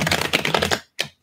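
Dense rapid riffling of tarot cards for most of a second, then a short sharp burst after a brief pause; close and fairly loud, no voices.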